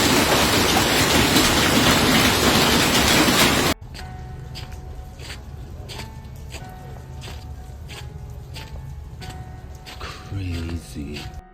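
Heavy hail storm in Johannesburg, with a loud, dense roar of hailstones hammering surfaces for a few seconds before cutting to a quieter, steady patter of rain and ice with occasional sharper impacts.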